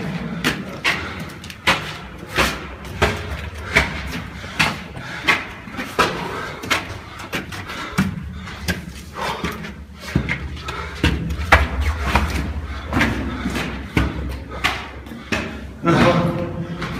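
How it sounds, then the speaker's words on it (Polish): Repeated door sounds in a video game, a string of sharp knocks, thuds and creaks recurring roughly every second or two, with players chatting throughout. "To akurat są drzwi na tym zejściu."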